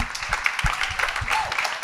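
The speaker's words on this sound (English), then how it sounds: "give everyone a round of applause" An audience applauding panelists at a tech panel event, a continuous wash of clapping with some nearer distinct claps, moderately loud and filling the room.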